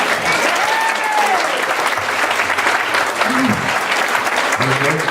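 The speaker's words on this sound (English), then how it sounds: "So everybody give Brent a round of applause" A crowd at an outdoor climate march applauds a speaker with loud, sustained clapping, while faint voices and brief tonal sounds rise over the steady clapping.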